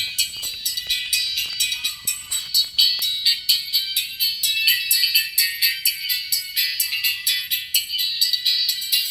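A bright, thin high-pitched tone plays steadily through an RCF 450 tweeter, pulsing rhythmically with no low end.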